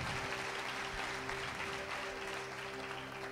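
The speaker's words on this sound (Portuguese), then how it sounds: "Você pode aplaudir o Senhor?" Steady applause from a large church congregation fills the whole stretch, with a low tonal hum running underneath.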